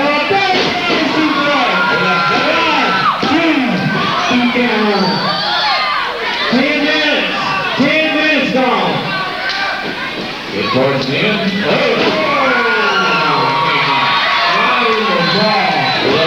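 An arena crowd at a professional wrestling match cheers, whoops and shouts loudly and continuously, with children's yells and an excited commentator talking over the roar throughout.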